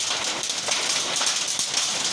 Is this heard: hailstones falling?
yes